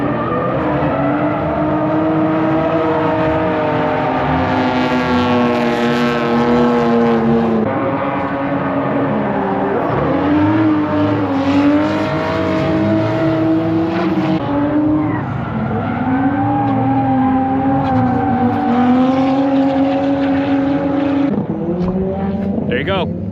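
A Lexus IS300 drift car out on a track, its engine note climbing and dropping through gear changes in a steady loud drone with sustained tire squeal, heard close throughout while voices come through over the noise.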